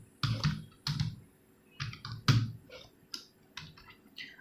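Keys on a computer keyboard are typed while entering a command in MS Word 2007: a handful of close, crisp clicking keystrokes in short uneven bursts, heard alone without talk.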